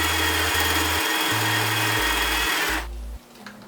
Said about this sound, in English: So we're just going to sew this together so it has a nice stitch